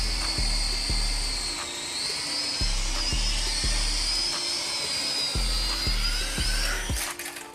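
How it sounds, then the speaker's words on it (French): A small toy drone hovers indoors in a bathroom, its high whining rotor buzz steady and close throughout, with repeated soft knocks or bumps at irregular intervals. "C'est un drone, c'est toujours stylé."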